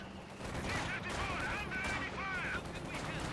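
Gunfire strikes Soviet conscripts in Company of Heroes 2, a continuous crackle of small-arms and machine-gun fire under a steady battlefield din, with voices mixed in.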